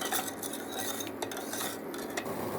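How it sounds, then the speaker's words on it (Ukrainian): A spoon scrapes and clinks against the inside of a pot while stirring a salted mixture for dough, with repeated metallic taps and scrapes, close and fairly loud, and no talking. "добре розмішую і ставлю на плитку"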